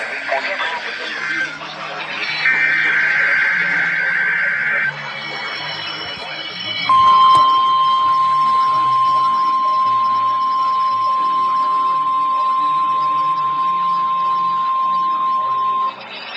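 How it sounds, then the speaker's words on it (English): A NOAA Weather Radio warning alarm test from the National Weather Service: a long, steady, piercing single-pitch tone sounds alone after a few seconds of broadcast audio and holds loud and unbroken for about nine seconds before cutting off. "the National Weather Service's NOAA Weather Radio Warning Alarm System"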